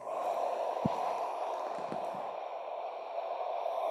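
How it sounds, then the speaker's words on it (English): A slow mouth exhale during a qigong breathing exercise, audible as a soft, steady breathy rush over a quiet room with a couple of faint thumps, alone without speech. "I'm going to exhale through the mouth on this down."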